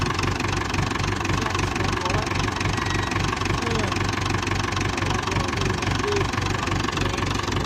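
A David Brown 996 tractor engine idling just after starting, a steady low knocking chug close by, with people talking over it.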